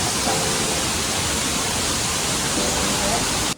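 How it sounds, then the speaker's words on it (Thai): Steady broadband rush of falling water from a waterfall at Wat Sala Loi, a continuous, loud, even roar without pauses. "นี่ครับเราก็อยู่ถึงกลางของน้ำตกตรงนี้ครับ"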